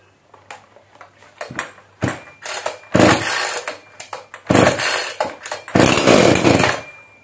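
A Holzfforma G382 50cc chainsaw, which has no decompression button, sputters through several pull-start attempts, short bursts building to louder catches that briefly roar before dropping off.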